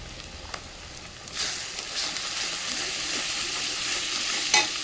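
Onions with turmeric and chili powder sizzle steadily in a pan while being stirred into a homestyle meat curry, a close, continuous frying hiss with occasional scraping strokes.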